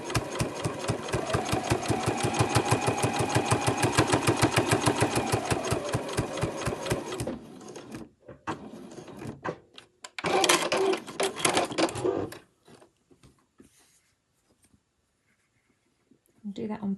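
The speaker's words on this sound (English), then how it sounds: "we're going to sew from the wrong side. Just to stitch down that folded edge." A sewing machine runs fast and steady, stitching down a folded fabric edge from the wrong side on a bow bag, then stops and restarts in shorter bursts with brief clicks and pauses.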